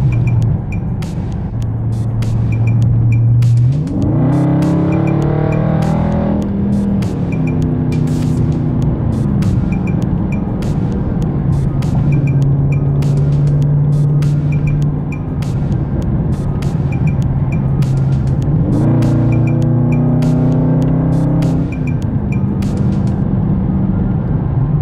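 A Dodge Charger Scat Pack engine runs steadily near 1500 RPM, a constant low drone with two brief rising revs, while rapid regular clicking ticks along throughout, no talk.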